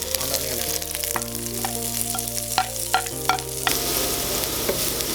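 Ginger, green chilli and onion sizzle in clarified butter, with a steady close frying hiss broken by clinks and scrapes as the mix is stirred in the pan.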